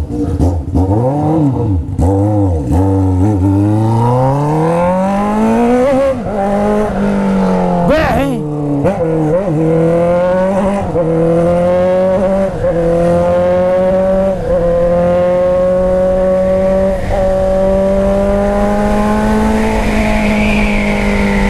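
A loud Hornet motorcycle with a 3-inch carbon steel Atalla exhaust revs up and down repeatedly, rising and falling in pitch, then holds a steady high drone, close by.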